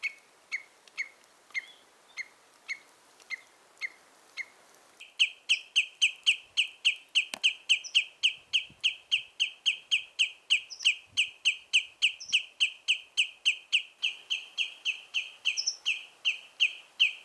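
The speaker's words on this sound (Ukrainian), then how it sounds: "Співає пташка." A small bird sings repeated bright chirps out on a Norwegian mountain trek through Rondane, sparse notes at first, then a fast, steady run of loud, close calls alone in quiet surroundings.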